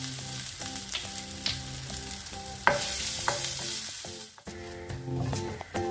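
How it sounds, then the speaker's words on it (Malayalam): Ginger garlic paste fries in hot coconut oil for a Kerala sadya masala curry, a steady sizzle under soft background music, with stirring clatter and a brief dip near the end. "വെളിച്ചെണ്ണ ചൂടായിട്ടുണ്ട് അതിലോട്ട് നമുക്ക് ഇഞ്ചി വെളുത്തുള്ളി പേസ്റ്റ് ഇട്ട് കൊടുക്കാം"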